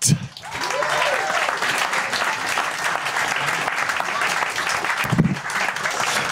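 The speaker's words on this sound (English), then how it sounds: "Thank you for this overwhelming applause." Loud, sustained applause from a large comedy show audience fills a New York theatre, steady and dense with a few cheers rising through it.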